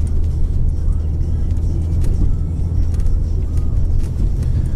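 A Lada Granta with an automatic gearbox accelerates on a winter road, a steady low engine drone and road roar heard from inside the car, with faint talk underneath.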